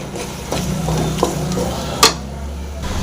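Masala paste frying in a pan for a bean curry, with steady low sizzling, a few stirring scrapes and one sharp metallic clink near the end.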